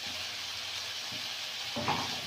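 Cauliflower frying in spiced oil gives a soft, steady sizzle with a brief louder burst of crackle near the end.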